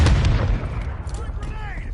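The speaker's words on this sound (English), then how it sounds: "Taking fire!" Loud gunfire and artillery-like booms erupt in a Call of Duty battle, with a heavy blast at the start and scattered shots after, while voices call out over the combat.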